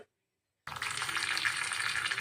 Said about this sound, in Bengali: আবার একটু দিলাম এই কারি পাতা আর কালো সরষের ফোড়নটা আওয়াজটা শোনাবো বলে আওয়াজটা বন্ধ করিনি